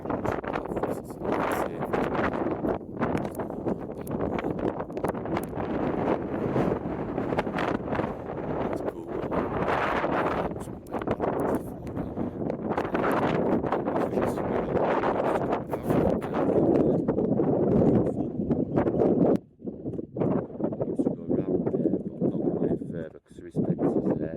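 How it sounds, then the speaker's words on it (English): Strong wind buffets the microphone in a continuous loud roar with rumbling gusts throughout, outdoors at Leeming Dam near Oxenhope. "Unfortunately, it was very windy that day,"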